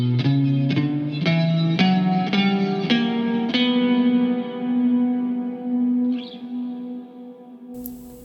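An electric guitar plays a B harmonic minor scale through effects with distortion, chorus and echo: seven or eight picked notes climb steadily, then the last one rings out and decays with a long reverberant tail, loud and close.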